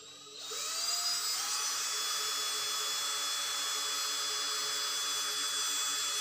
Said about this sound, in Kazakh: мынандай шуруповертпен мына жерден екі тесік жасаймыз